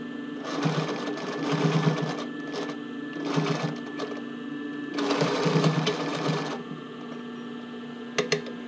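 A sewing machine stitches the waistband and hook and eye of a sports bra in several short bursts of rapid whirring separated by pauses, with a couple of sharp clicks near the end.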